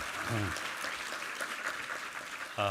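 Steady applause from a church congregation fills the whole stretch, a dense wash of clapping with a couple of brief voices breaking through near the start and end.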